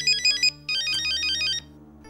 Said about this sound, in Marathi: एक मिनिट, हा, मम्मांचा फोन आहे.